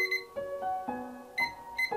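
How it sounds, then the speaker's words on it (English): A game timer being started gives a short electronic melody of clear beeping tones, several quick notes in a bright tune with no talking. "let's start our timer, which has been reset for some strange reason"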